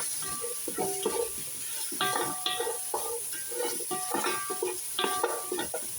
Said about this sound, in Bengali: আর এটাকে একটু নাড়াচাড়া করে নিতে হবে